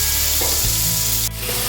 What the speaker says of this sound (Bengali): আর এদিকে আমাদের পনির ভাজা হচ্ছে।